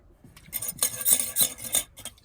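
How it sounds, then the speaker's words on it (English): Gritty scraping and clinking as a pot is scrubbed with sand while washing dishes at a campsite, with several close, irregular strokes rising and falling over a couple of seconds. "if you put a little bit of sand in here when you're scrubbing your pot, it's like an abrasive sponge"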